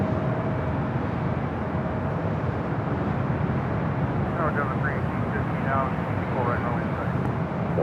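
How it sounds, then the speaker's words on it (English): A jet airliner arriving at LAX from Anchorage, heard as a loud, steady broadband engine roar that fills the whole stretch, with a voice talking over it. "This is the flight coming in from Anchorage."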